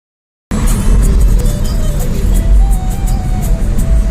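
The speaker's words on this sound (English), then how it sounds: "Today I am driving my Alcazar petrol variant and automatic." A Hyundai Alcazar petrol automatic drives along an average road, producing a loud, continuous low rumble of engine and tyre noise heard from inside the cabin after a brief silent start.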